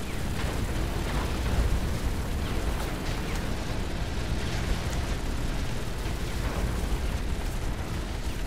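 Gunfire and explosions from the mech shooter game Hawken form a dense, continuous roar of blasts and bursts at steady loudness, with no let-up for the full stretch.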